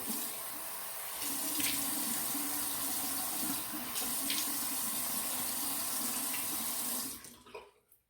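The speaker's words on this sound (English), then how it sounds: "I don't really like running the water in these videos because I know it's obnoxiously loud" Steady running tap water splashes into a sink for several seconds, loud and close, then the flow shuts off and fades away.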